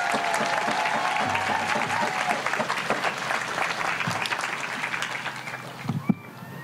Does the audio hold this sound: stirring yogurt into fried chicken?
no